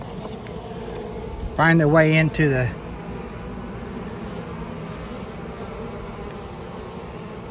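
Honeybees being let into a hive box at a back gate make a continuous low buzzing drone in the background while a person speaks briefly over it.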